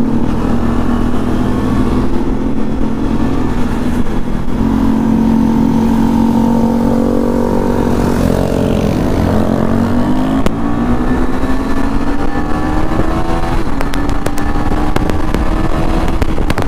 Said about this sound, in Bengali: ভাই সবচেয়ে লাউড বাইক আমাদের মধ্যে ভাই